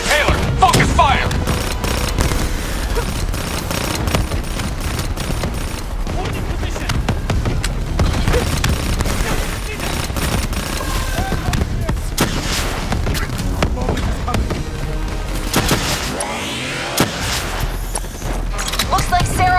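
Heavy gunfire fills a campaign battle in Call of Duty: Black Ops 3: a dense, continuous barrage of shots and booming impacts with a steady loud roar throughout.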